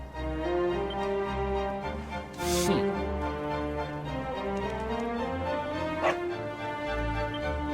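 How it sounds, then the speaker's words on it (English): Dog barking in the Dragon Quest XI S video game, several yips and barks layered over steady orchestral game music that plays throughout. "No, not a dog! Anything but that!"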